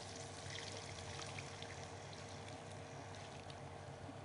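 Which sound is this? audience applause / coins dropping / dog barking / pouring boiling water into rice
pouring boiling water into rice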